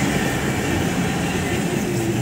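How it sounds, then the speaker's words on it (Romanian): A city tram pulls into a stop with a loud, steady low rumble of wheels on rails, continuous and close throughout. "În sfârșit vine un tramvai în care ne putem urca."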